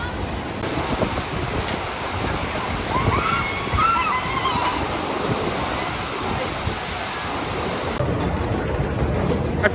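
Log flume water ride at Knoebels amusement park, with a loud continuous rush of splashing and churning water that fills the whole stretch and faint voices underneath.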